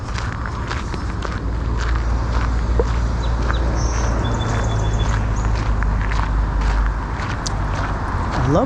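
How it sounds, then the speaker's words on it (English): Outdoors in a city lakeside park, constant traffic rumble from passing cars fills the background while footsteps crunch along the path and faint birds chirp intermittently. "So there's birds on my left, cars on my right."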